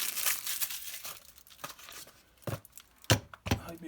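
Festus tape being pulled off a roll while making off a MICC cable, a series of sharp crinkling, ripping bursts close by, irregular and without talk.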